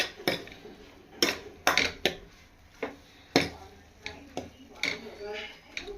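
A utensil stirs and scrapes garlic-ginger paste with coriander and cumin powder in a pan, giving sharp, irregular metallic clinks and scrapes at close range with quiet gaps between them.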